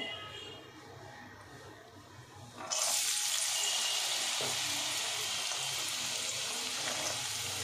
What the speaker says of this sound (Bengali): তো এই যে সবজিগুলো একটু ভেজে নিই। তো আমি একবারে সবজিগুলো ভাজবো।